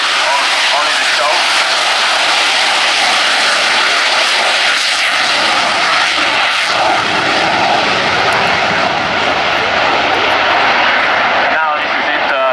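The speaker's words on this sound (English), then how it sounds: "The aircraft is airborne, and they will build up the speed and altitude" An aircraft takes off at the Yeovilton Air Day display, its loud, sustained engine roar dominating throughout, with a commentator talking over it.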